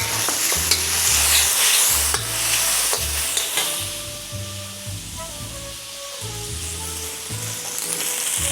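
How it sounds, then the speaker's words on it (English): Noodles stir-fried in a pan for garlic noodles, a constant loud sizzle with repeated scraping and clanking strokes of the utensil against the pan in an irregular rhythm, with no talking. "Add your noodle in. Quick stir fry like this."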